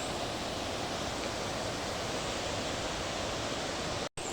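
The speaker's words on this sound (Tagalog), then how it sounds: "Ayun, falls oh, gikan na sa bukid." A mountain waterfall pouring down, a dense constant roar of rushing water close by that cuts out abruptly near the end.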